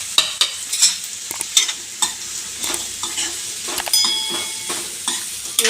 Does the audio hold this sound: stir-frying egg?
yes